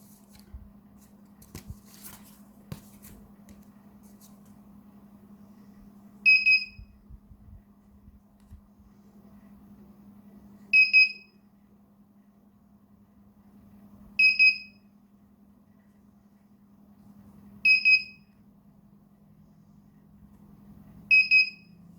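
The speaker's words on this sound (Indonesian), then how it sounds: "Dan buzzer bunyi 1 kali, ini berarti pengunjung terdeteksi oleh sensor" A visitor-detection sensor buzzer sounds five times in short, sharp high-pitched beeps spaced a few seconds apart over a low steady hum.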